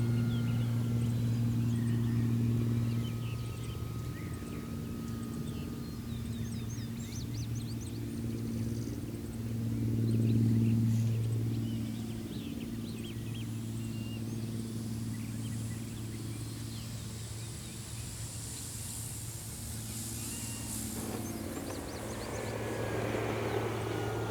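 An Avios Super Tucano RC model airplane, a 1600 mm electric warbird, circles in on a spiraling, slipping approach to land. Its steady propeller drone is faint and distant, swelling briefly as it passes nearer.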